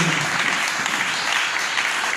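Steady applause from a church congregation, dense and loud throughout without a break.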